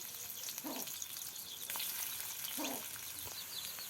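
Chopped onion and green chilli fry in oil for a cabbage dish with a steady, moderately loud sizzle, a few stirring scrapes, and brief chirps from a bird in the background.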